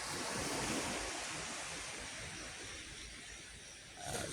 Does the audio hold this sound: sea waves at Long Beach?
yes